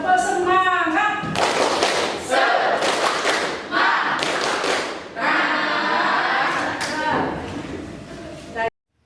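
Indonesian classroom students perform the rhythmic 'tepuk semangat' clap, a burst of group clapping and chanting voices in repeated patterned bursts, loud and close, with a teacher's voice at the start.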